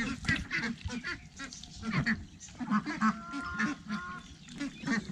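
Ducks, including Indian runner ducks, quack and honk close by in a busy, overlapping chorus of short nasal calls with uneven rhythm throughout.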